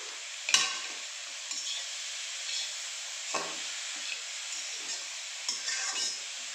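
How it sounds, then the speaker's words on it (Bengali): Grated carrot halwa fried in ghee and stirred in a pan, a steady close sizzle broken by occasional scrapes of the spoon, with no speech. "ভালোভাবে নাড়াচাড়া করে নিলাম ঘি দিয়ে ভালো করে ভেজে নিলাম"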